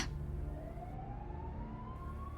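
An ambulance siren wails faintly in a steady rising tone over low background rumble, sounding from a distance.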